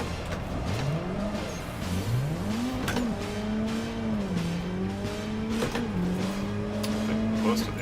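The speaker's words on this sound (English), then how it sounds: "Massive clutch kicks in third gear." A simulated drift car in Assetto Corsa takes repeated clutch kicks in third gear, its engine revving up and dropping again in several surges while the tires squeal steadily through the slide.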